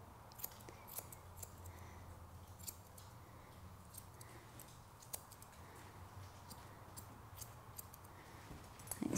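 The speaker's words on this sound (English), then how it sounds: "cup the foot with my feet scissors, trim it around with my foot scissor" Quiet, crisp snipping of small scissors trimming a Bichon Frise's foot fur repeats in irregular bursts, faint and close, with soft rustling between cuts.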